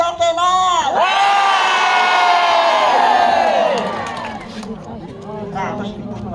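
A crowd of spectators at a Kecak dance performance at Garuda Wisnu Kencana in Bali cheers and shouts loudly for several seconds. The noise then fades into a murmur of talk and scattered voices.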